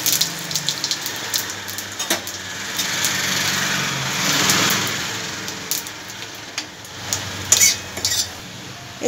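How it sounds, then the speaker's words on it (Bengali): Dried red chili, bay leaf, whole cumin and phoron spices sizzle in hot oil, making a steady hissing crackle that swells in the middle, with a few clinks of a utensil against the pan. "এই তেলের মধ্যে দিয়ে দিচ্ছি একটু ফড়ং, শুকনো লঙ্কা, তেজপাতা আর একটু গোটা জিরে।"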